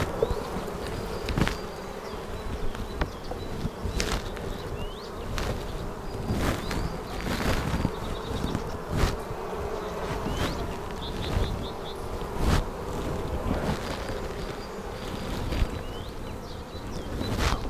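Honey bees buzz steadily around a hive, a dense droning hum with scattered clicks and bumps close by.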